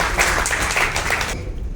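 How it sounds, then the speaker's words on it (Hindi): A crowd at a young poets' recitation event claps loudly in welcome of a poet, a short dense burst of applause that cuts off abruptly near the end. "आप सभी से निवेदन है आप पुनः जोरदार तालियों से उनका स्वागत करें"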